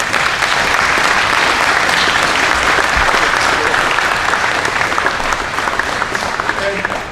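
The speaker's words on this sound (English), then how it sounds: "I want everybody to really give a round of applause to Commissioner Gregory and Dr. Vivian" An audience claps in a dense, sustained round of applause, loud and even throughout, with a few faint voices and cheers mixed into the clapping crowd.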